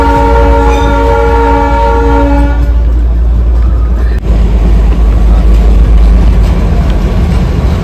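The Darjeeling toy train pulls into Siliguri Town station, its horn sounding loud and steady for several seconds before giving way to heavy rolling wheel and carriage rumble close by.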